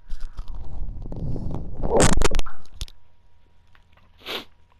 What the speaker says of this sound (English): Sorry, a little sneeze there.